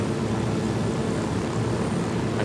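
A helicopter in Ghost Recon Wildlands flies at night, with a dense, steady rotor and engine roar filling the whole stretch, loud and close, with no voices.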